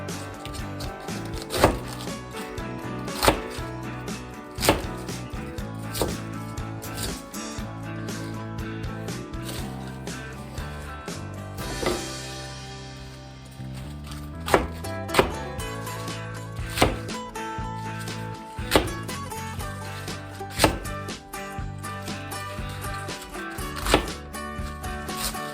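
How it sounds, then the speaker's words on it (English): A knife chops cabbage for Japanese yakisoba, each blade strike a crisp, close knock in an uneven steady rhythm, with a pause near the middle, over a constant bed of background music. "Now let's cut the cabbage."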